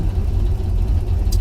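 A truck engine idling as it warms up, a steady low rumble close by with no talk, holding an even level for the whole short stretch.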